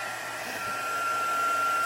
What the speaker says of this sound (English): You really need the heat tool. I'm going to turn it on.